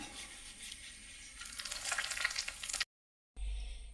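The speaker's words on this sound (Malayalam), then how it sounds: "കടുക് വറുത്തത് ഇതിലേക്ക് ചേർക്കാം." Fried mustard seed tempering sizzles as it is poured into a tomato and curd curry. The crackling hiss swells louder toward the middle, cuts out briefly, then returns with a low thud.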